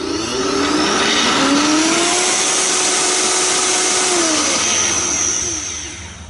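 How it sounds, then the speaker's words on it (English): A Vitamix blender spins up to full speed, a loud, high motor whine with rising tones that holds steady for several seconds before starting to wind down at the end; no speech. "I've got my wife's Vitamix blender here"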